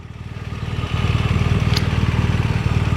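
A 2007 Ducati Monster S2R1000 motorcycle idles close by, its engine pulsing in a steady low throb with the mechanical rattle of a dry clutch running continuously underneath.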